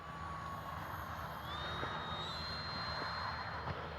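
Arrows F4U Corsair RC model warbird plane flying on a rainy day, a faint steady motor whine with a rising pitch, heard at a distance over constant rain-like background noise.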